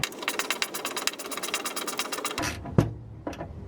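Ratcheting wrench tightening fasteners on a cat shield under a Toyota RAV4 Prime, a rapid, even run of close clicks that stops abruptly, followed by a couple of sharp metallic knocks.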